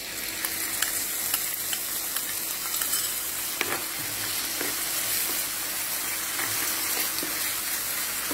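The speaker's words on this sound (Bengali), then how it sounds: "এখন দিয়ে দেবো টক দই" Yogurt going into spiced masala that is already sizzling in a pan while cooking chicken biryani, a steady close frying hiss broken by stirring scrapes and a few sharp clinks, with no voices.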